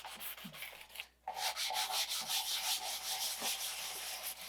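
Sanding epoxy on a carbon overlay, close rasping strokes in a steady back-and-forth rhythm with a short pause early on, no talking.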